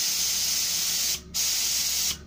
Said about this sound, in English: It's spraying just over 30 pounds PSI.